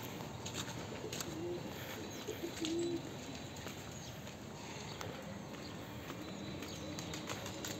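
Giribaz pigeons at a farm, a few soft coos faintly heard amid steady outdoor background noise, with no talking.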